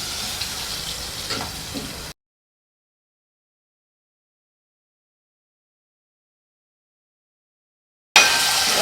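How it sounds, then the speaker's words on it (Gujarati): Steady crackling sizzle of skin-on potatoes frying in hot oil, loud and close, cutting off abruptly into silence before the sizzling resumes at the end. "આને તેલમાં એકદમ સતડાવા દેવાના છે બટેટાને"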